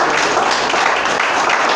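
Church congregation applauding, a dense steady wash of clapping filling the whole moment at even loudness with no pauses.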